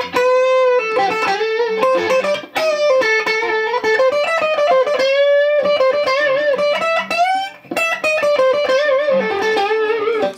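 A distorted electric guitar plays scale notes shaped into riff-like phrases, with bends, slides and short pauses between lines, loud and sustained with no speech over it.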